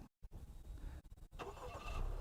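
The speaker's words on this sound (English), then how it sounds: "just push and hold this button here until the vehicle starts up" Engine of a 2022 Acura RDX A-Spec SUV starting by key fob remote start, a brief crank after a short silence, then settling into a steady idle that grows slightly louder, heard nearby with no talk.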